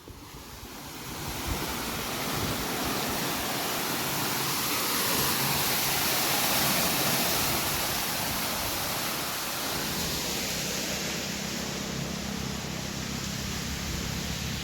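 Irrigation water pours through a farm channel in a steady, loud, broadband rush that stays close and constant, with no voices.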